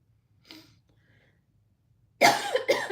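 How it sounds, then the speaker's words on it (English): A single faint cough comes first, followed by near silence. Then a loud, close burst of two harsh coughs arrives near the end. "stuff for my throat for a cough"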